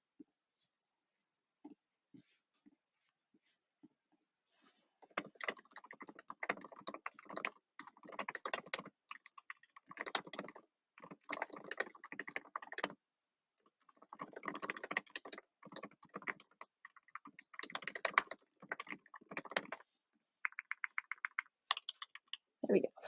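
Bursts of typing on a computer keyboard, a steady run of quick plastic key clicks grouped into short flurries with brief pauses, close and moderately loud; a few faint soft sounds come before the typing starts.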